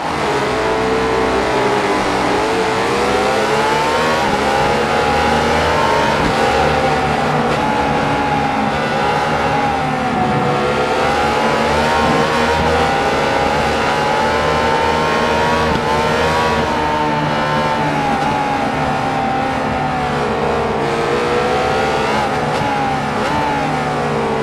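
A Honda RC181 motorcycle races a lap at Alton in Ride 4, its engine loudly rising and falling in pitch through gear changes and corners, continuous and close.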